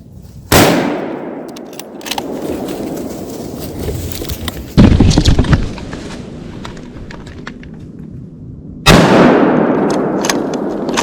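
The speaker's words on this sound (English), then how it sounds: "I just shot the biggest buck of my life." Rifle shots fired during Wisconsin gun-season deer hunting: three loud, sharp blasts spaced several seconds apart outdoors, each with a long echoing decay, and quiet rustling between them.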